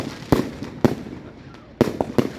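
Fireworks at a caravan park thump and crackle in a run of four or five sharp bangs at uneven intervals, heard from nearby over a steady outdoor rumble and faint crowd noise.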